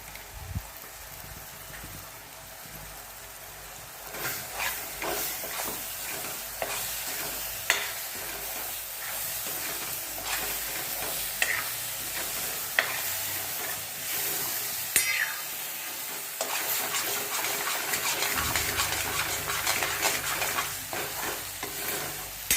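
Ground wet masala paste goes into a hot pan for chole, sizzling and frying steadily while a spoon stirs and scrapes through it, with loud, continuous crackle and busy stirring throughout.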